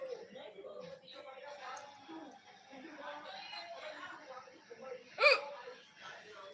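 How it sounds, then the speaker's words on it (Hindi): Hiccups after eating hot chilli, one sharp loud hiccup standing out near the end amid ongoing talk and background noise. "हिचकी आ गया।"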